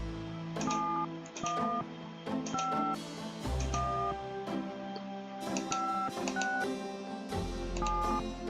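Touch-tone beeps of a telephone dialing an international number in the adventure game Gabriel Knight: Sins of the Fathers, a sequence of short dual-tone presses in quick irregular groups, clear and close over a faint low background hum.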